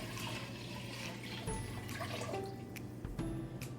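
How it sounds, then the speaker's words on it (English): Just over five cups of water poured into a pot of Italian lentil stew, a continuous watery rush with faint background hum and a few brief clinks. "now we're going to add our water"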